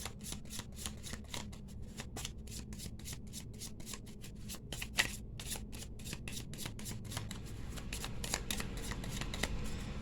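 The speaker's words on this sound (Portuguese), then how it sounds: "Embaralhei aqui pra gente, fazendo um corte no monte." Rapid, rhythmic riffling and flicking of a tarot deck being shuffled and cut, close and crisp, with repeated short card bursts and a brief pause midway.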